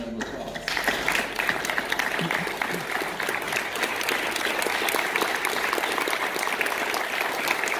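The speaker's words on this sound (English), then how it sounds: "we'll give them a round of applause" Applause at a fire academy graduation begins abruptly and continues as a loud, sustained wash of clapping from a crowd, with some voices underneath.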